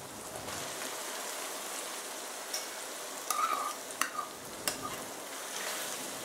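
Half-boiled vegetables stirred into oil in a frying pan for veg biryani, a soft, even sizzle with scattered spoon taps and scrapes against the pan.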